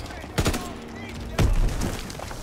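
Gunfire in the World War II shooter Call of Duty WW2: two separate loud bursts of shots about a second apart over a low ambient game background.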